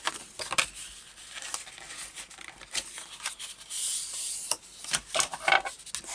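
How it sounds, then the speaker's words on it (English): A burnishing tool rubs repeatedly over cardstock for a mini album craft project, making close, soft rubbing and scratchy strokes in an uneven rhythm with no talking. "you do get lovely crisp burnishing with no cracking in the cardstock"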